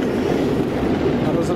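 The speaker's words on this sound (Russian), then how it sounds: "Сейчас, в общем, трактор разворачивается." A tractor turns around on a crushed-stone road under construction in Poteryaevka, its engine giving a steady, close, low rumbling drone.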